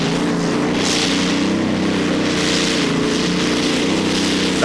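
Pulling tractor powered by a Rolls-Royce Meteor tank engine roars continuously at a 1995 European tractor pulling event in Hörby, Sweden, a loud, dense, unbroken engine drone throughout.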